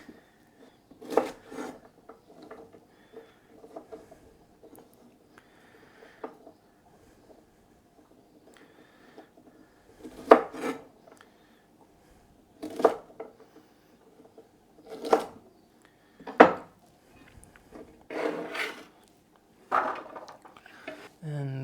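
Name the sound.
chopping vegetables for curry paste and fried rice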